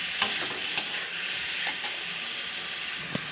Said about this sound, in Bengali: এবার আমি সিদ্ধ করে রাখা আলুগুলো দিয়ে দেবো, দিয়ে একটু কষে নেব।